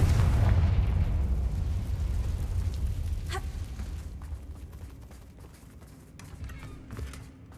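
A Confringo fire spell explodes in the Hogwarts Legacy video game, a loud booming blast right at the start that rumbles and slowly decays over several seconds, followed by quieter crackles and scattered game effects.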